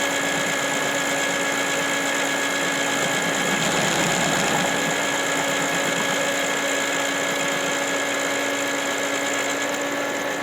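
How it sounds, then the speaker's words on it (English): Frankford Arsenal case trimmer cutting a brass bullet case, a steady motorized whir with a continuous grinding ratchet texture that runs unchanged throughout, close and alone. "I'm actually going to trim it until it quits trimming."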